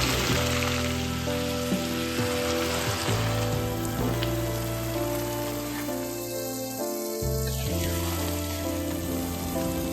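Sliced onions (sabola) with curry leaves and salt frying golden in oil in a pan, a continuous close sizzle with a faint hum running underneath and no voices.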